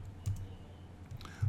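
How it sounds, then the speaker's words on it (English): Typing on a computer keyboard, a few scattered soft key clicks in small bursts with short pauses between, close and fairly quiet, with no voice. "You just do that by typing set"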